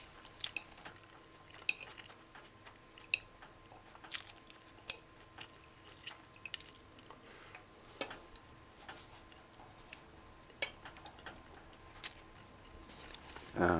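Someone eats a vegan chickpea, mushroom and pepper stew, giving soft crunchy chewing and scattered sharp clicks of cutlery against a dish, close and fairly quiet, with no talking.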